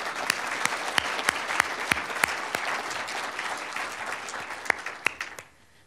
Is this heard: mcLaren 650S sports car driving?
no